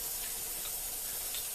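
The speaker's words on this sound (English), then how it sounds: "So we're just going to spray it on and take all the old oils and solvents off." Simple Green degreaser sprayed onto an AR15 bolt carrier, a steady close hiss of spray running throughout with no voice.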